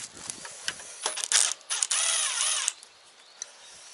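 Metallic clicks and rattles of a wrench loosening the battery terminal bolts on a key-start tillage machine during a battery replacement: irregular close taps with a short ratcheting whir in the middle, then sparse ticks.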